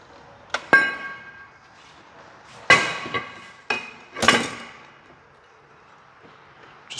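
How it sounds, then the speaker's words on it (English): Sharp metallic taps and clinks from a tool working a rubber plug out of an old brake rotor, four distinct hits spaced a second or so apart with ringing decay, close up in a quiet garage. "So let me dig that out of the old rotor."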